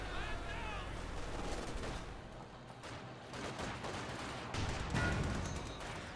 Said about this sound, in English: that's a pretty good mortar hit